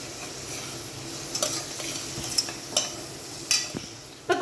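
Tomatoes sautéing in a pan with rock salt and turmeric for a one-pot rasam rice, a soft steady sizzle with occasional scrapes and clinks of a stirring spoon, fairly quiet and close, no voices.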